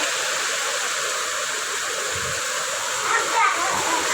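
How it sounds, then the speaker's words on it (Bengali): Heavy rain pours down with gusty wind in a dense, continuous hiss and roar close by, steady throughout and swelling slightly near the end, with a faint voice briefly underneath. "দেখুন কি পরিমাণে বৃষ্টি নামছে।"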